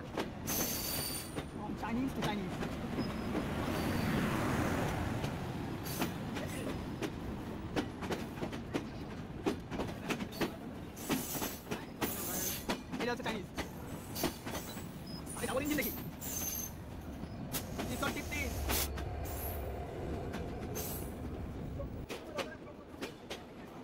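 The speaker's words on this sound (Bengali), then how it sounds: "আর এখন আমাদের ট্রেনটি বেনাপোলমুখী ছেড়ে দিল" The Rupshi Bangla Express, a Chinese-built rake, rumbles and rattles as it pulls away, wheels clacking irregularly with occasional squeals, while a person talks over the rolling noise.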